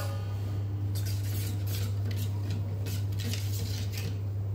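A spoon stirs Bengali ground spices such as turmeric with a little water in a bowl for a Bombay duck curry. Quick metallic clinks and scrapes repeat against the bowl over a constant low hum.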